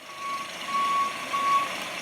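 A delivery truck's reversing alarm sounds in Philadelphia, evenly spaced beeps over a low engine hum and traffic background.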